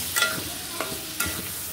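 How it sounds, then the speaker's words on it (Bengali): Chopped tomato frying and being stirred into masala for prawn curry: a steady loud sizzle with a few scraping stir strokes across the pan. "টমেটো দিয়ে তারপরে হচ্ছে একসাথে কষিয়ে নিব।"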